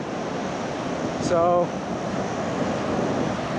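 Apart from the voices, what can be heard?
ocean waves on a beach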